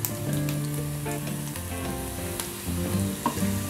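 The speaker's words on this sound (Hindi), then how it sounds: "1 इंच बारीक कटा हुआ अदरक डाल देंगे।" Finely chopped ginger frying in hot oil alongside garlic and cumin, a loud, close, continuous sizzle with occasional scraping stirs, no one speaking.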